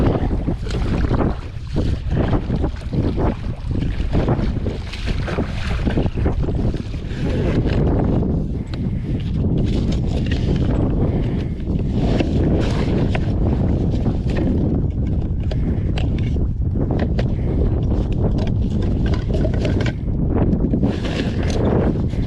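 Kayak paddled out on open water in strong wind, with heavy, continuous wind buffeting and rushing, splashing water throughout and no talking.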